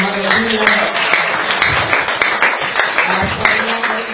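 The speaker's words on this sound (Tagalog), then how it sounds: "Sige, sa malakas na palakpak sa Panginoon." Loud, dense applause from a church congregation, close and continuous, with voices mixed in among the clapping.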